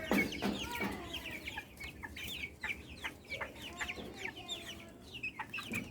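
Fayoumi and Sonali chickens cluck in repeated short, close calls over a steady farmyard background, with no talking.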